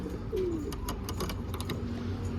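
Şam pigeons sitting on their eggs give a low, soft coo that dips once early on, close by, amid steady background hiss and faint clicks.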